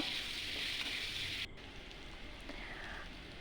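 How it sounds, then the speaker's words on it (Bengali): Potato slices frying in a pan with salt and turmeric give a steady, close sizzle with a soft hiss that dips slightly partway through and continues evenly without talk. "সামান্য পরিমাণ নুন আর হলুদ দিয়ে আলুটাকে 2 মিনিট ভালোভাবে ভেজে নিয়ে"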